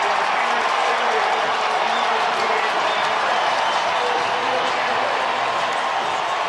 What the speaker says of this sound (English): you hear this crowd